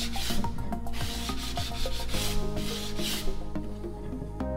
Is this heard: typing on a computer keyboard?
no